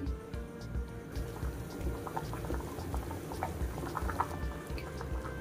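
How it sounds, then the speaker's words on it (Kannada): Potatoes boiling in a pot of water, a steady low bubbling rumble with scattered pops and drips, close and continuous throughout. "ಸೊ ಹಾಗಾಗಿ ನಾನಿಲ್ಲಿ ಒಂದು ಕುದಿ ಬರೋವರೆಗೂ ಹೀಗೆ ಚೆನ್ನಾಗಿ ಕುದಿಸ್ಕೊಳ್ತೀನಿ"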